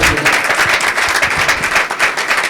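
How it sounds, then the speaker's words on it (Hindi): A church congregation clapping at a sermon, a steady, dense wash of hand claps filling the room for a couple of seconds without speech. "if you know you love Jesus, clap your hands"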